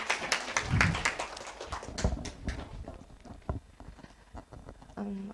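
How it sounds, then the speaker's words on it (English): Audience applause for a speaker taking the stage at a university English speech contest: scattered, uneven clapping from a modest crowd, loudest at the start and thinning out to a few separate claps before fading. "Let's give Seski a big round of applause as she takes the stage"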